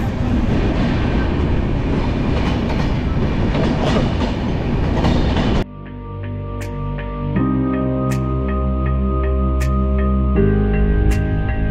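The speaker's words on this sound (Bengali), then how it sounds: "দানাপুর ব্যাঙ্গালোর এক্সপ্রেস।" Danapur Bangalore Express running on rails: a loud, steady rumble of rolling wagons, then a clattering rhythm of wheels over rail joints with tonal hum, continuous and close.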